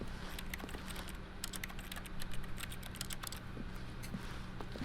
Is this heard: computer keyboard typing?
yes